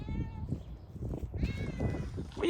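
A cat meows a couple of times in a garage, short tonal mews near the start and middle over low rustling, with a person's voice faintly nearby.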